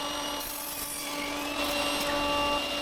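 Hand sawing through a pine plank about 4.5 by 17 centimeters, cutting it to 80-centimeter lengths for a table-saw crosscut sled; a steady, continuous rasping of the blade, close and alone, growing slightly louder near the end.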